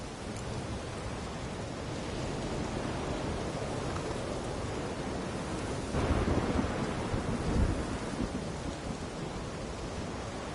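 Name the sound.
thunderstorm in a PS4 video game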